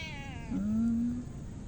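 A house cat gives a single drawn-out meow, close and fairly loud, with no talking over it.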